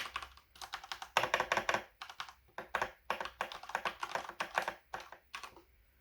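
Fingers type on an elevated mechanical computer keyboard, close and clear, in rapid bursts of crisp clacking keystrokes separated by short pauses, with no voices.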